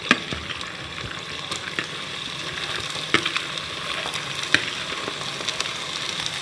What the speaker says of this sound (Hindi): थोड़े चावल डालकर आप इसको अच्छी तरह से आहिस्ता हाथ से, तेज़ हाथ में आपने करना, थोड़ा सा मिक्स करें चाशनी में चावलों को